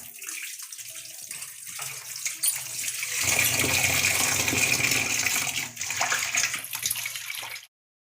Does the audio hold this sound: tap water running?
yes